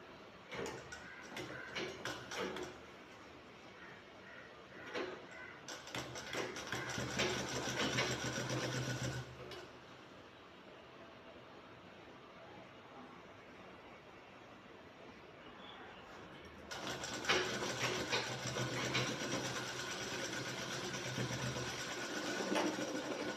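A sewing machine stitches a shirt collar in two bursts of steady, fast mechanical whirring and ticking close by, separated by a quieter pause with no talking.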